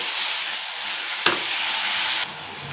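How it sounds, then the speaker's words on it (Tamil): Prawns, cleaned with salt and turmeric, sautéing in a pan give a steady, close sizzle with one brief clack midway; the hiss drops slightly near the end, with no talking. "நல்லா வதங்கி வந்துடுச்சு பாருங்கள் இறால்."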